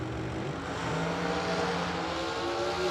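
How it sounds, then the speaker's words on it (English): A supercharged big-block drag racing car running on alcohol roars loudly and steadily, with a rising engine tone through a brief pass at the drag strip. "Supercharged big block, I believe on alcohol."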